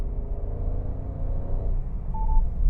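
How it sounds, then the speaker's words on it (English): A Renault Clio V sounds a brief electronic speed-limit warning tone over the low rumble of the car driving, heard from inside the cabin. "did you hear that double beep"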